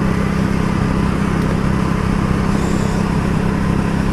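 A BSA Gold Star motorcycle cruising at 60 mph just under 4,000 revs gives a steady, loud engine drone with a low hum, continuous and unbroken, with no talk over it.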